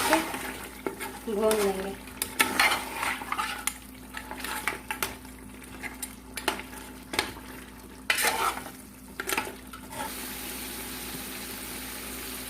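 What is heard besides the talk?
mutton being mixed and sautéed for biryani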